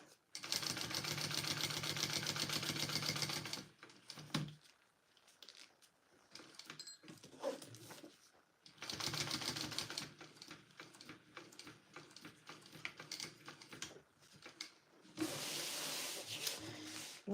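Domestic sewing machine back stitching a canvas tote bag, loud rapid mechanical runs in three bursts separated by pauses with faint handling and a brief voice.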